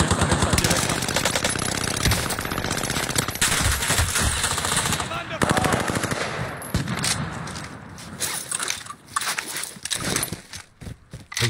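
Sustained automatic gunfire in a Call of Duty match, dense rattling bursts running nearly nonstop at close range, thinning into scattered shots near the end, with some speech woven underneath.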